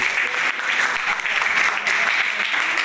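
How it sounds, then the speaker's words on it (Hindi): Schoolchildren applaud loudly in class during a school safety programme, and their dense, sustained clapping fills the whole stretch with only small dips. "इनके लिए भी जोरदार ताली दी"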